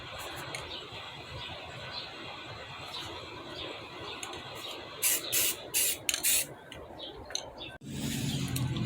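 Spray paint hisses onto a car wheel rim in several short, sharp bursts of close aerosol spray over a background of low ambient noise, without talk.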